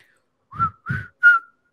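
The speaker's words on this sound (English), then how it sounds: "Whistle." Three short whistled notes, close and clear, each a brief rising-then-steady tone with small pauses between, no talking.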